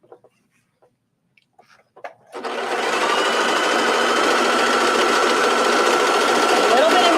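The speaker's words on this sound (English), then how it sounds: "I'm just going to serge that." A serger stitches knit binding onto a tank top. It starts after a few quiet handling noises and then runs as a loud, continuous, fast mechanical buzz close to the mic.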